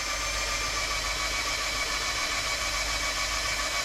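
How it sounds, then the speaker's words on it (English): The engine of a 1963 Corvair is primed, giving a continuous, even mechanical whirring hum that stays at a steady level throughout, with no voices. "All right, priming the engine."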